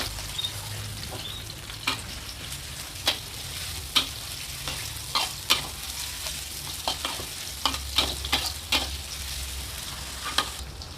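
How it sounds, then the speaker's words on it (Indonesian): Onions fry in a pan with a continuous sizzle while a utensil scrapes and stirs, giving a dozen or so sharp clicks at irregular intervals over the steady crackling. "goreng bawang bombaynya dulu setengah matang"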